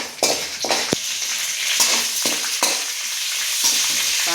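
Mustard seeds, fenugreek and chana dal crackling in hot oil, a bright continuous sizzle broken by several sharp utensil knocks and scrapes close by, with no speech.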